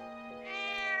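A cat meowing in the Trails of Cold Steel video game, a single drawn-out, rising, tonal meow heard close and alone, about a second long.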